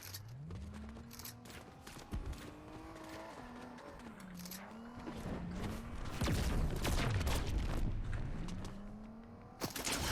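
Car engine in the video game Fortnite, a revving motor with shifting pitch that climbs and dips as it drives, joined by rough skidding and crashing noise midway, moderately loud with no speech.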